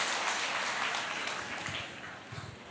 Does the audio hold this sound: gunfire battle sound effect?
no